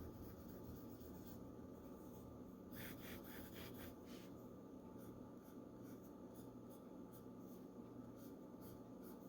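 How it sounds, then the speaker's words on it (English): A Jinhao 9019 Dadao fountain pen with a heartbeat nib writes on paper, a faint, close scratching of the nib with soft strokes and a brief busier burst partway through, otherwise quiet. "This is what fountain pen writing is all about."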